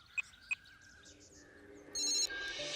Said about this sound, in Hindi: रुक, मैं फोन करके बात करती हूँ।